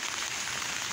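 Steady rain falling over a village yard where pigeons forage, a continuous even hiss with no distinct drops and no voices.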